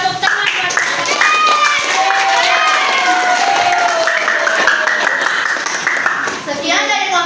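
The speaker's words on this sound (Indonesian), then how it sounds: "Kita beri tepuk tangan buat mereka." A school class applauds a student group after their presentation, with clapping mixed into lively children's chatter and voices throughout, loud and close in a busy classroom.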